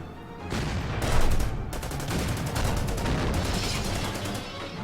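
Tank battle gunfire from the Order of Battle war game, with a German Panther and Panzer IV facing a Soviet KV: a dense, continuous barrage of overlapping shots and bursts, loud throughout with a heavier swell early on, no voices.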